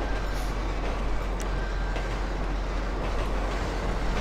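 A train rolls past in the GTA 5 video game during a snowy Christmas-time session, a steady, dense rumble filling the whole moment at close range with no talk over it.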